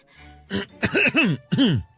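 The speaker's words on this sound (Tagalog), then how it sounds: "Kanina ka pa uubo-ubo kunwari dyan." A person fakes a cough, clearing the throat in a few short, forced bursts up close, with a faint murmur before them.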